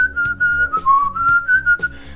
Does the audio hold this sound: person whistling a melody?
yes